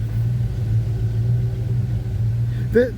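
Engine of a 1975 Chevy C10 pickup truck runs at a steady low idle, a close, throaty rumble through the exhaust, with a short voice breaking in at the very end.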